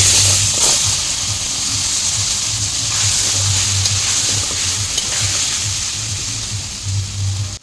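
Pointed gourd sizzles steadily in hot oil seasoned with turmeric and salt in a kadai, a continuous close frying hiss with a low bubbling rumble and occasional stirring clicks, no voices.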